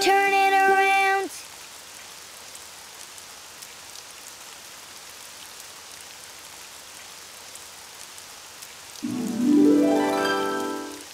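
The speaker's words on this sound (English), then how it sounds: "Oh, it's raining outside." Steady rain falls outside in a cartoon scene, a constant soft hiss that runs alone for most of the stretch, with brief musical tones at the start and end and no talking.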